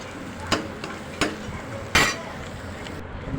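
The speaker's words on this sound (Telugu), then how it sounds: "బాగా కలిపాను." Turmeric, chili powder and salt being stirred into hot frying oil in a pan, a soft sizzle with three distinct clinks of a spoon against the pan, fairly quiet and close.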